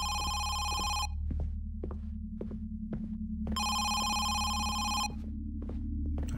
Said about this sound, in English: Is there a phone in here?